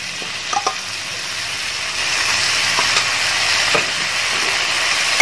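Ginger garlic paste fries with onions and curry leaves in a pan for Kerala-style beef pepper fry. A steady, close hissing sizzle runs throughout with a few soft clicks and no talking.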